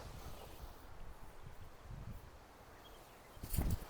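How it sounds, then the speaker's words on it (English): Wind gusting across an open disc golf course in South Carolina, a continuous low buffeting rumble on the microphone with a sharper burst near the end and no voices. "Oh, that wind."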